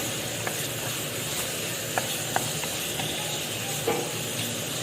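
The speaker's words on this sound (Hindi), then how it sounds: "ऑयल थोड़ा सा गर्म हो गया है। मैं इसमें चिकन डाल दूंगी। ये देखें, चिकन डाल दी है। अब चिकन को फ्राई कर लेंगे।" Chicken pieces fry in hot oil in a home kitchen, giving a steady, even sizzling hiss throughout with a few faint clicks and taps over it.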